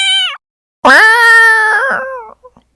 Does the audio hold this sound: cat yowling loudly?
yes